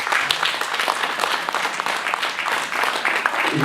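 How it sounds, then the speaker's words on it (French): An outdoor crowd at an agricultural fair in the Alps applauds during official speeches, a steady wash of many hands clapping at moderate distance, continuous from start to finish. "On peut les applaudir également."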